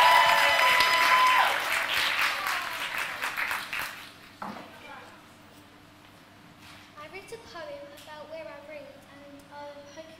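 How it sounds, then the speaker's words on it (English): An audience applauds a young schoolgirl poet, loud dense clapping fading out over about four seconds, then a voice speaks alone at a moderate level. "please give her a big round of applause"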